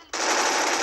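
MP submachine gun firing in a video game, a dense, loud burst of rapid automatic fire starting abruptly and continuing without a break for under a second.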